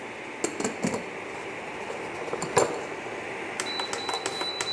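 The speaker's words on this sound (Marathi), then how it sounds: "कुकरचं झाकण लावून देऊ" A pressure cooker lid is set on and locked down over a mixed vegetable curry, with a series of sharp, close metallic clicks and clanks followed by a faint steady hiss.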